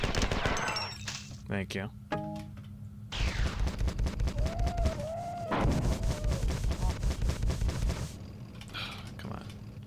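Rapid automatic gunfire from free pickup guns in Classic Marathon 2, loud dense bursts of shots with creature squeals and a short spoken remark mixed in.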